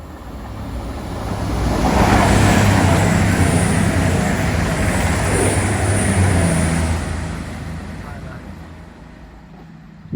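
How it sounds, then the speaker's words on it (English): Eight-car CrossCountry Voyager train passing on the East Coast Main Line, heading north beside a raised section of track: a broad roar that swells and fades over several seconds. "Eight-car Voyager set of cross-country heading to Edinburgh."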